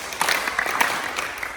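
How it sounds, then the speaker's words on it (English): Children in Ghana clap for themselves in a short burst of scattered applause, a few hands audible as loose, uneven claps close by. "Clap for yourselves."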